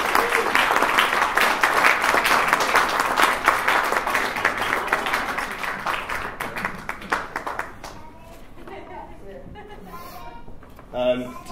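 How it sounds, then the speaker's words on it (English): Wedding guests give a round of applause at a reception, a loud, dense burst of clapping that tapers off after several seconds into quieter chatter and a voice speaking. "If I'll just quickly get a round of applause for that one"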